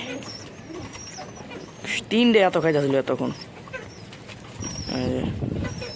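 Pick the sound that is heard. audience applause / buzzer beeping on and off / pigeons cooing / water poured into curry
pigeons cooing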